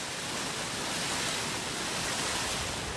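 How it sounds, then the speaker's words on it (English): Glacial meltwater runoff pouring into an Alpine valley in Austria on a warm day, a steady, dense rushing roar of flowing water with no pauses, fairly loud and close, with no voices. "On warm days, water runoff from the glacier flows into the valley."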